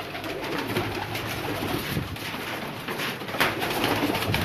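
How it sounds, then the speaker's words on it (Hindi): Teddy pigeons in a loft in Lahore, soft repeated cooing amid a dense wash of bird noise and rustling, close and continuous without speech. "टैडी कबूतर आपको दिखाते हैं"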